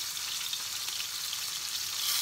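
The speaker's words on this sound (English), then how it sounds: "So we're going to start frying this off now." Meat for a game pie sizzles and fries in a big pan, a steady close crackling hiss without pause.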